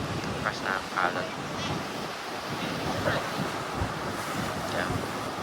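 Rough Caribbean Sea surf churns against the rocks at Aruba's Natural Bridge, a sustained loud roar with rolling surges, heavy wind buffeting, and occasional faint voices mixed in.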